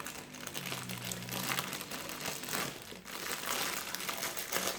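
A diamond-painting canvas is unwrapped from its transparent plastic sleeve, giving close, continuous crinkling and rustling of thin plastic with uneven bursts and no talking.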